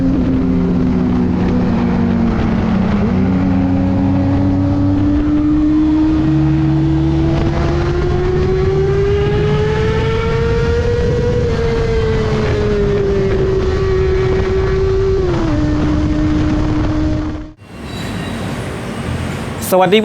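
A Kawasaki Ninja ZX-6R motorcycle accelerating, its engine note climbing steadily in a loud, sustained whine before dropping back and cutting off near the end, with wind rush throughout.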